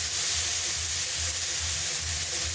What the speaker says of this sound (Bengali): শুধু এই নেড়ে নেড়ে লাল লাল করে একটু ভেজে নেব।